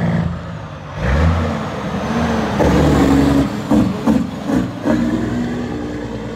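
Peterbilt 379 truck hauling gravel, its diesel engine rumbling deep and loud through the exhaust pipes, close by, with the note rising and pulsing as it pulls.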